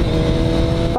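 A Kawasaki 636 sport motorcycle revs hard and loud up close, then downshifts with an abrupt drop in engine note near the end.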